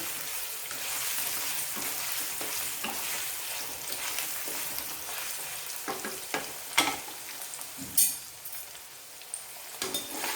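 Paneer frying lightly in hot oil in a wok gives a continuous close sizzle, broken by a few sharper clinks and scrapes of stirring toward the end.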